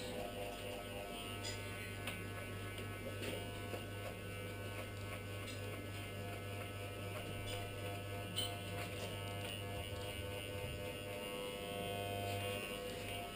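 Electric hair clippers buzz steadily while tapering a neckline, a low, constant motor hum with faint rasping as the blades move, close and uninterrupted, no voices.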